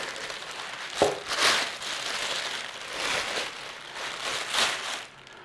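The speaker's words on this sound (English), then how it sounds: "Trusty plastic bag in there." Plastic bag crinkling as it is pulled over a bowl of sweet bun dough, a few bursts of close rustling and crackling separated by quieter pauses.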